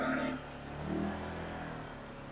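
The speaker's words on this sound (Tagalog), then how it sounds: "Oops! May sasakyan." A car comes along a narrow village road during a town fiesta, its engine revving briefly then settling into a moderate, fairly quiet hum at mid distance.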